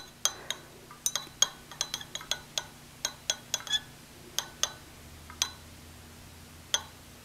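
A rod stirs a copper solution in glassware, making light, irregular clinks and taps against the glass over a faint steady hum, with no voices.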